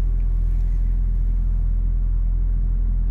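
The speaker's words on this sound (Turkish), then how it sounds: "arabamız çalıştı" Ford Focus engine idling just after starting, a steady low rumbling hum, close and continuous with no talk.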